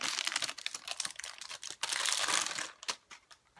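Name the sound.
tearing open the hard drive packaging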